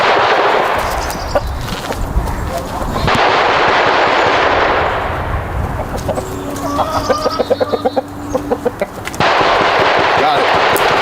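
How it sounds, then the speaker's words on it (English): Loud, close bursts of gunfire crack out in rapid volleys, some like machine-gun fire, and a chicken clucks in a short quieter gap between them. "What is that shooting going on over there?"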